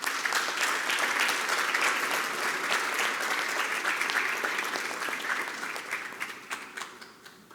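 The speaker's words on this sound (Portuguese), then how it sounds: "eu peço uma nova salva de palmas" An audience at a formal swearing-in ceremony of a Brazilian court commission applauds steadily and loudly, the clapping thinning out and tapering off toward the end.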